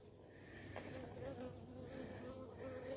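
Honey bees hum continuously around a hive during an inspection, a soft, even buzz with a few brief nearer passes, with no talk over it.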